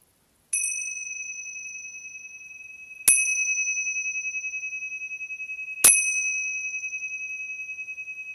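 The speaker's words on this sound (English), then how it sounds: "And at the sound of the bell," A meditation bell is struck three times, each clear ring sustaining and slowly fading into silence before the next strike, with no talking.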